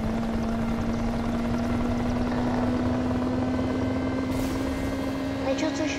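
A police helicopter in the Need for Speed Rivals racing game hovers with a steady, slightly rising whine and a dense rotor hum, held at an even level throughout, with faint game sounds behind it.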